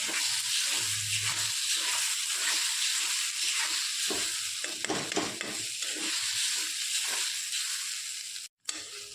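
Poha puliyodharai is mixed in a pan, giving a quiet, rhythmic series of stirring scrapes about every half second over a soft, continuous sizzle, with no voices.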